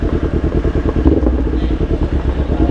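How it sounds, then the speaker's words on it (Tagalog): Kawasaki Ninja 400 engine idling steadily up close, a loud rhythmic low-pitched putter with no talk over it. "Pinainit ko na pala tong motor."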